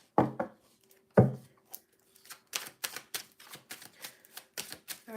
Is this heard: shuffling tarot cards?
yes